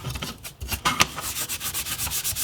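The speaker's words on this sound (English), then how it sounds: "Now I have a Scotch-Brite pad and I'm just gonna go over everything to just rough up the surface" Scotch-Brite pad scuffing the plastic surface of a Nerf blaster, close rhythmic back-and-forth rubbing strokes, steady and dry, with a sharper scrape near the middle.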